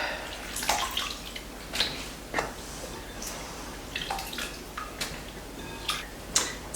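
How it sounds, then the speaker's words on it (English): Chopped potatoes are rinsed in water, heard as faint, intermittent splashes and trickles with occasional sharp drips and clinks against a steady low background. "It's always weird to me when you rinse potatoes that were clean after you've chopped them"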